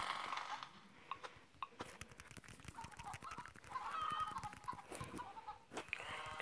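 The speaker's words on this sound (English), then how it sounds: "Cause we seriously need to fill these chickens up." Cartoon chickens cluck in the mobile farming game Egg Inc, with quiet, scattered clucks and squawks mixed with sharp interface clicks and taps. No one speaks.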